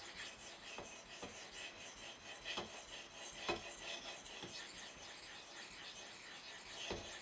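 Freehand sharpening of a Spyderco Manix 2 blade in M4 steel on a 1200-grit stone, with close, quiet rasping strokes and scattered sharper scrapes at an irregular pace, no voices.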